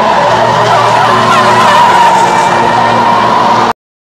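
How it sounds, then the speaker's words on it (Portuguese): Cars skid through stunt maneuvers at a Hot Wheels show. A loud, continuous tire screech with engine noise fills nearly four seconds, then cuts off abruptly. No one talks. "os nossos amigos dando grandes manobras de carro"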